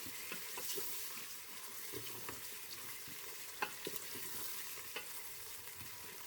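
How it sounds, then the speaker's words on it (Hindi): Chicken and potatoes sizzle steadily in mustard oil for a salan, with occasional stirring clinks and scrapes cutting through the continuous fry hiss, close and moderately loud, no voices. "इसको हम अच्छी तरह से अब भून लेंगे। इसका कलर शलर चेंज करेंगे ताकि ये भी गोल्डन ब्राउन हो जाए।"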